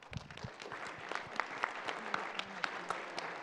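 Crowd applause for Jimmy Mulligan at an art auction during a retro convention, with distinct individual claps standing out over a continuous bed of clapping, fairly close and sustained throughout.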